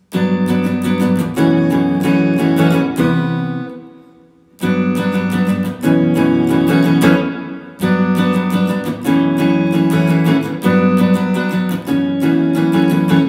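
Guitar strumming the chord progression of a song in brisk rhythmic bursts, with short pauses between phrases before the pattern starts again.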